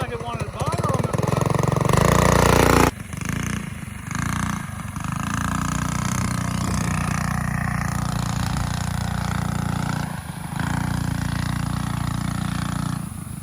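A Stage 2 Trailmaster engine drones steadily and loud up close, with a brief louder rev near the start and a few dips in pitch and level, never reaching a sustained full-throttle scream.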